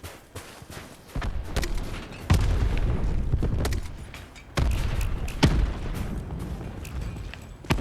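Artillery strikes in Black Ops 4 land as a string of heavy, booming explosions, with sharp blasts at intervals of a few seconds and rumbling fire and debris rolling on between them.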